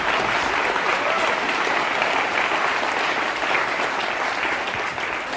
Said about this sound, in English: applaud if you want to